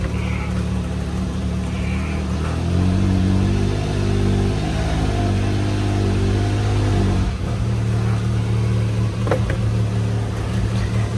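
A customized Can-Am Turbo RR with a loud exhaust and dump valve idles and revs as it backs up, a heavy, close, steady rumble whose pitch rises and falls through several revs.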